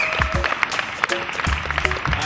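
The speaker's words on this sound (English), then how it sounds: "We can give a round of applause" Applause for the event staff at a basketball talent search day in Stevenage, scattered clapping from a modest group with individual sharp claps standing out, plus some voices and low thuds around it.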